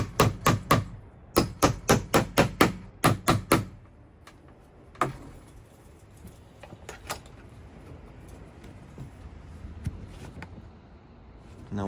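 Nails are hammered into wood boards during a sauna electrical install: a quick run of about ten sharp, close blows in two bursts, followed by quieter scattered taps and faint background noise.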